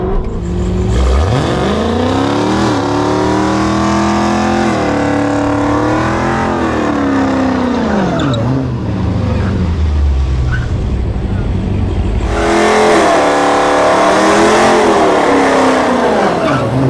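A 972-horsepower Hellcat Redeye Charger on big 315 tires roars loudly at a dragstrip, engine revving up and down in long sweeps while the tires are warmed, with a voice commenting over it.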